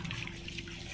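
Hot water pours into a bottle outdoors in freezing cold, a steady close gushing splash with a constant, even flow throughout.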